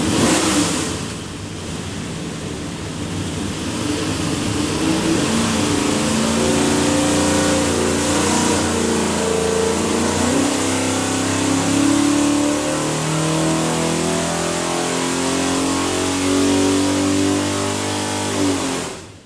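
A 582ci big block Chevy airboat engine with an Edelbrock manifold and custom oil pan revs on a dyno, its loud roar climbing steadily in pitch through a long sustained pull before dropping off.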